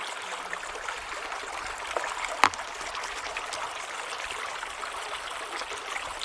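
Orange-stained water trickles and gurgles out of an old mine near a Montana ghost town, a soft continuous burble close by with one sharp click partway through.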